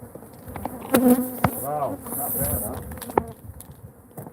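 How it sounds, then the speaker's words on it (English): Agitated honeybees from a disturbed hive swarm in a dense, rising buzz close by, while people talk briefly over the insects. "So, Bees went crazy."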